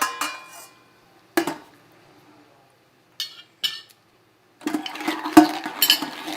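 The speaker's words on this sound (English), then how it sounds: "sometimes you gotta scrape it off with a spoon" Metal spoon scraping and knocking in a pot of Sicilian tomato sauce, a few separate clinks and scrapes, then a busier cluster of scraping and clanks near the end, close and fairly quiet.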